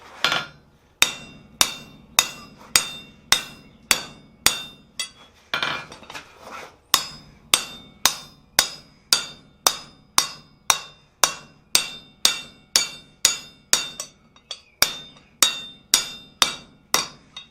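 Steady rhythmic metallic hammer strikes ring out, around twenty blows evenly spaced, each with a bright clanging ring, close and loud.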